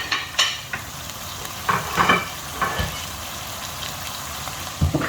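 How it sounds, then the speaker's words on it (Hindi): Seafood chop suey with vegetables cooking over high heat in a pan, a soft steady sizzle and bubble with scattered clinks and sharp stirring bursts, no talking. "ये देखें इसमें बॉईल आ गया है।"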